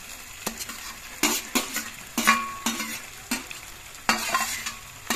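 Small fish dropped into a hot pan of softened tomatoes, sizzling in repeated short bursts as pieces are added and stirred, close and fairly crisp with light clinks of the utensil.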